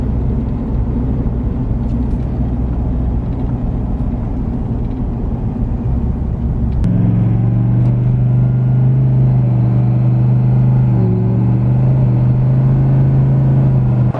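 A tuned 2018 Ford 6.7 Powerstroke diesel pickup drives at light throttle with a steady low rumble, then a shift midway brings a louder, deeper droning engine tone that holds constant and close throughout.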